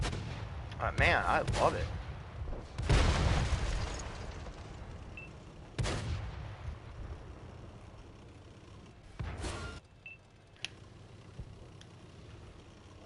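Blank rounds fired from a tank gun in a video game, loud booming blasts in a spaced series, each trailing into a rumbling decay, with someone briefly speaking between shots.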